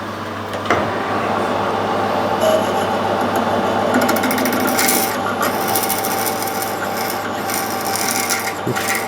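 A steady grinding, rasping whir of a drill biting into bronze on a lathe, continuous and close, with a few sharp clicks and scrapes.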